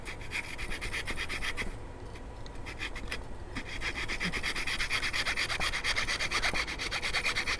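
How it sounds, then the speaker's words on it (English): Coping saw cutting across a wooden dovetail joint on a mini workbench: a steady run of close, rasping back-and-forth strokes with a brief softer lull partway through, heard alone. "this coping saw is used as a inside cutout saw, and it allows you to cut"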